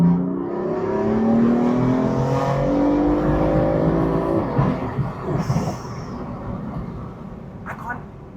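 A Stage 2 BMW M4 engine revs hard and climbs through rising harmonics, loud and close, then eases off with crackles and pops from the exhaust.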